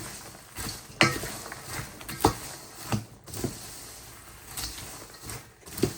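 Strawberry crunch crumbles stirred in a bowl, soft scraping and clinking of a utensil against the bowl in a few irregular strokes, fairly faint and close with no talking.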